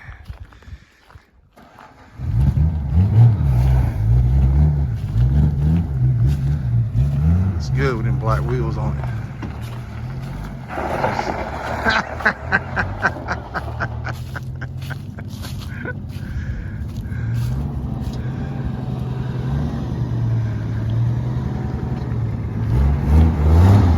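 A 1980 Chrysler Cordoba LS, burning some oil, cranks and starts after a quiet moment, then settles into a steady, close, rumbling idle with light revs. Someone speaks briefly over the running engine.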